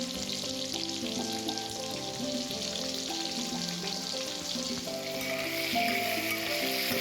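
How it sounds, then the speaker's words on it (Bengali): Potato pieces coated in salt and turmeric fry in refined oil, a dense, continuous close sizzle with light stirring scrapes throughout and no talking. "আলুগুলোকে নুন হলুদ মাখিয়ে ভালো করে ভেজে নেব।"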